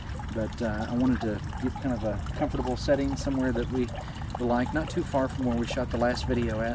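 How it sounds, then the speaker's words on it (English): A downtown water fountain trickles and splashes steadily in the background, a soft continuous wash beneath someone speaking close by throughout. "I'm sure you hear the trickling of the water fountain that you're right beside"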